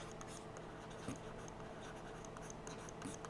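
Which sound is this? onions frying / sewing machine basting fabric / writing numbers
writing numbers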